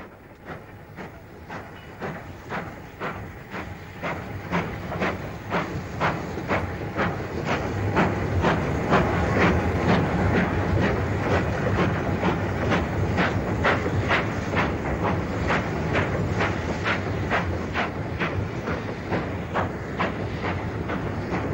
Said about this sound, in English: a former Great Western Hall Class 460 4978 Westwood Hall, which we see leaving with the 520 to Bristol